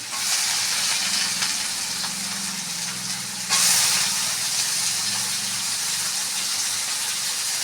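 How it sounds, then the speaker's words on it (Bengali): Potatoes fry in a pan for vegetarian vegetable chowmein, giving a loud, steady sizzle throughout with a brief surge of hiss partway through, with no voice. "এবার আমি আলুটাকে দিয়ে দিচ্ছি আলুটাকে ভেজে নেব"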